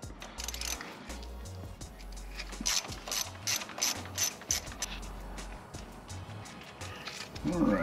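A ratchet clicks steadily while loosening a small 8mm bolt on the back of a brake caliper, the pawl ticking in repeated bursts at close range throughout.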